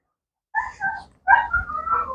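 A Malinois dog gives a few short high whimpers and yips close by, two brief bursts followed by a longer whining run, with silence in between.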